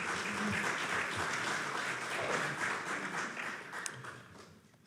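Steady applause from a church service congregation, a continuous bed of clapping that gradually thins and fades toward the end.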